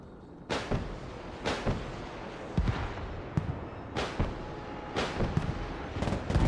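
Anti-aircraft weapons fire in the video game Broken Arrow, a series of sharp, loud booming shots at irregular intervals, each with a short rumbling tail over a continuous low background.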